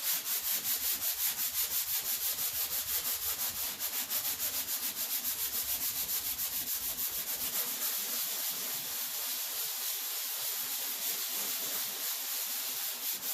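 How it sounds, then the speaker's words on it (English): A sponge sanding block rubs joint compound on a wall in quick, even back-and-forth strokes, a steady close scratchy hiss that continues for the whole stretch with no talking. "This is a nice little sanding block."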